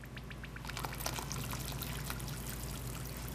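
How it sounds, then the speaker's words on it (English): Ultracal 30 plaster is poured into water for mold making, giving a steady close-up rushing, trickling pour with no talking. "So you put the Ultracal into the water, not the other way around."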